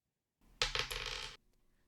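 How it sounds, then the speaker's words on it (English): Dice for a tabletop role-playing game clatter across a hard surface in one brief, close rattle that lasts under a second and then stops. "roll the dice"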